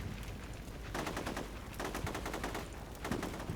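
Gunfire in the video game Combat Mission: Shock Force 2 rattles in rapid automatic bursts, loud and continuous, with repeated shots overlapping.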